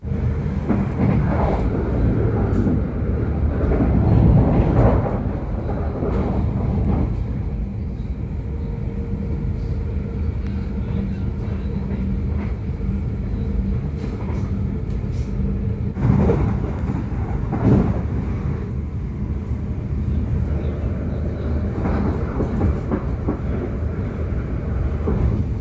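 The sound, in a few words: long-distance train riding in Amsterdam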